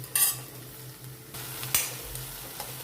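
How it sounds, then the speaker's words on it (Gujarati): Garlic, ginger and chilli fry in a pan for Rajwadi khichdi while a spoon stirs them, giving a few scraping strokes over a soft, steady sizzle and low hum, fairly close and quiet. "આ રીતે વચ્ચે વચ્ચે ચલાવવાનું।"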